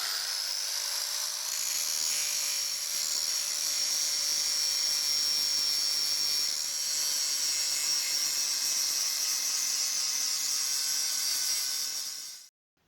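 Grinding on a ballnut flange, a steady high-pitched abrasive whine holding continuously for about twelve seconds before cutting off abruptly, loud and close with no talking.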